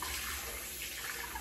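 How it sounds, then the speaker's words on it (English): Cold water runs from a tap as a face is rinsed after shaving, a steady close hiss and splash that goes on without a break and with no speech. "So I'll rinse off with cold water and I'll get to going."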